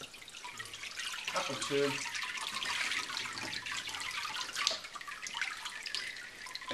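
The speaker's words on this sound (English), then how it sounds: "As you can see, the water's coming out, but there is a bit of suction going on." Water drips and trickles steadily from a freshly lifted sheet of sheep-dung paper pulled from a vat, a continuous close wet patter with a voice speaking briefly over it.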